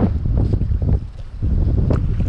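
Strong wind over the Pacific Ocean at Ballina river while kayaking, a heavy, gusting roar buffeting the microphone with deep rumbling surges and brief lulls, no talk.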